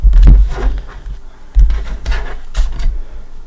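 Soft papery riffling and flicking of tarot cards in a few quick bursts, close by, with low thumps as the deck is handled and no talking.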